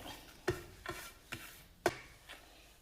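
Chopped mango, curry leaves, ginger, garlic and shallots are stirred together in a bowl, making about five soft, quick scraping strokes spaced roughly half a second apart, close and quiet.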